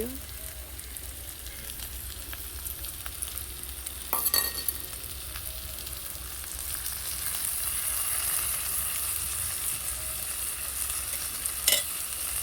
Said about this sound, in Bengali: এই যে চিংড়িটা দিয়ে দিচ্ছি